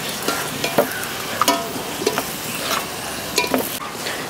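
Mutton pieces fry in a little oil in a pan, a continuous soft sizzle broken by intermittent scraping clinks of a spoon stirring against the metal, heard up close.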